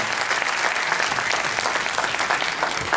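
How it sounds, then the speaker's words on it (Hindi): An audience at a business seminar gives dense, sustained applause with no break for the whole stretch. "एक बार जोरदार तालियां"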